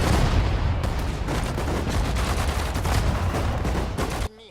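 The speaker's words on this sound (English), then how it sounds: "Oops, and we're getting shelled" Artillery shelling in the World War II strategy game Sudden Strike 4, a dense barrage of booming blasts and rattling gunfire filling the soundscape loudly for about four seconds before cutting off abruptly.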